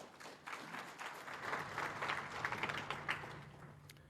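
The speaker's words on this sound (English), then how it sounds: "I think he deserves a round of applause, please." Meeting delegates at an African Union specialised session closing ceremony applaud the chair, a soft, distant patter of clapping in a large hall with faint murmuring underneath.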